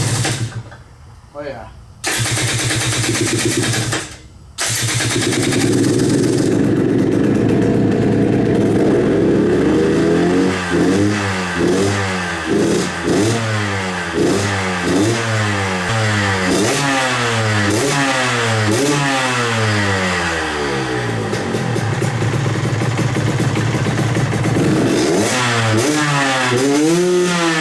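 A freshly rebuilt KTM 125XC two-stroke dirt bike is kicked over with a few stuttering attempts, fires up, and is revved repeatedly in rising and falling blips near the microphone, with brief talk over it.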